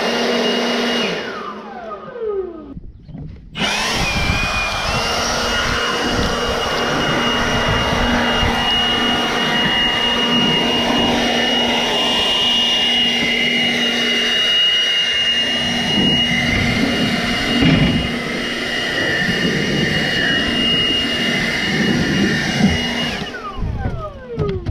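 A powered leaf blower roars steadily at close range for about twenty seconds, a loud continuous whooshing drone with a faint whine and no talking.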